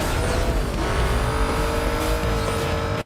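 Loud sustained engine roar of a car at about 230 mph in Need for Speed Most Wanted, a steady high-pitched whine with slight tire squeal, running unbroken until a sudden cut.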